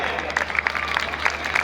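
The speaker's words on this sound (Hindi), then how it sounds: "जोरदार तालियां।" A brief burst of crowd applause at a CISF cyclothon welcome event in Gujarat, a steady wash of many hands clapping at a moderate distance.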